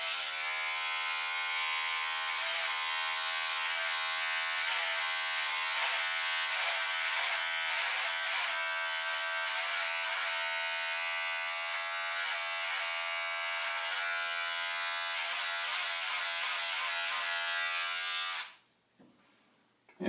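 An electric beard trimmer buzzes steadily at close range for about eighteen seconds, a continuous bright motor whine that stops abruptly near the end and leaves near silence.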